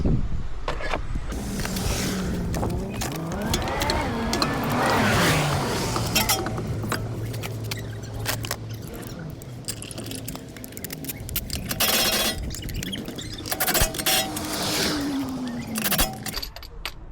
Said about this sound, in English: I was always told to put wheel bolts back in a star formation.